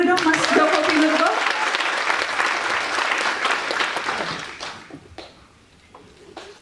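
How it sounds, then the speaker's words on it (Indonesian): Audience applause for poet Joko Pinurbo at a literary talk, loud dense clapping at first that thins and fades over several seconds into scattered claps, with faint voices underneath. "Kita kasih tepuk tangan dulu dong Mas Joko Pinurbo"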